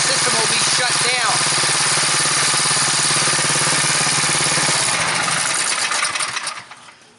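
A Dewalt 3835 wet blaster's engine runs loud and steady, with a rough, throbbing drone that holds for several seconds before dying away as it is shut down.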